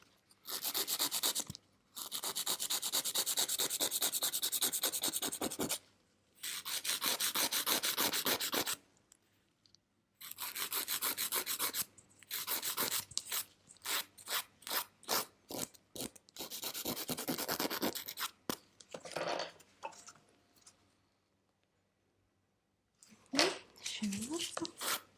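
Hand-filing a fiberglass model, long rasping strokes in repeated bursts, some sustained and some quick and choppy, close and fairly loud, separated by short pauses.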